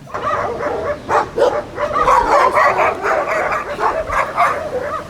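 Several dogs gathered near a bridge bark and yip in quick overlapping bursts, loud and fairly close, with some whimpering mixed in.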